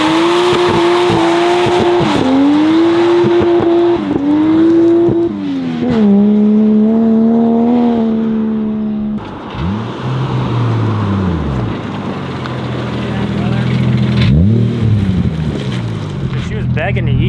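A Toyota JZX100 Chaser driving past close by: a loud engine drone that rises and drops through gear changes, then swoops away with a fading whoosh as it passes, with people talking over it.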